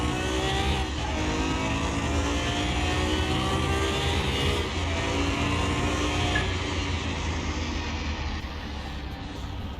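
A turbocharged car engine in Car Mechanic Simulator 21 revs hard and climbs in pitch, drops briefly at a shift into third gear, then pulls up again, loud and close throughout.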